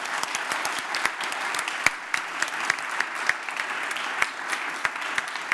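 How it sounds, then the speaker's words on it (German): Applause for Janis McDavid at the CODEBAVARIA 2021 Bavarian digital summit: a dense, steady wash of audience clapping that holds for the whole stretch, loud and even with scattered sharper claps standing out. "Nochmal einen großen Applaus für Sie"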